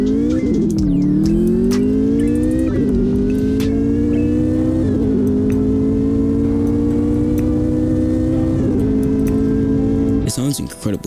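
Porsche 918 supercar engine and exhaust, a loud sustained drone rising in pitch through several gear changes with brief dips between, close and dominant, with a burst of different noise at the end.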